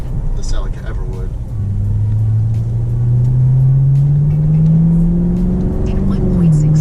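A Chevrolet Camaro SS engine climbs in a steady, rising drone, heard from inside the car under a faint voice.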